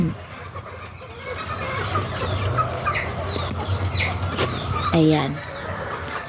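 Free-range native chickens cluck and chatter close by as they peck at leaves tossed to them, with a soft voice speaking briefly and a louder squawk near the end.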